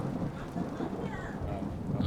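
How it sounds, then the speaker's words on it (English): A thunder sound effect plays behind a talk-radio broadcast as a dense, steady low rumble with a rain-like hiss, continuous for about two seconds, with speech faintly underneath. "we're gonna lower the thunder a little bit"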